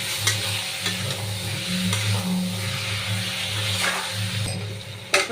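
Pointed gourd (potol) fries in oil with turmeric, salt, chili powder and cumin powder, giving a steady, close sizzle with scraping stir sounds throughout and a louder clatter near the end.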